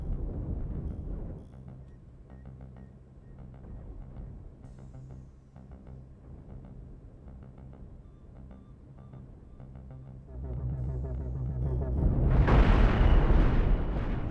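Phaser lance weapons firing and explosions in the space combat game Star Trek: Cosmoteer, a low rumbling barrage of booms and bursts that builds into a loud, dense eruption of blasts near the end.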